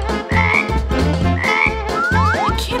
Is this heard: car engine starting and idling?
no